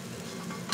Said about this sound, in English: So how are you going to cook your fish? I'm going to cook it skin side down.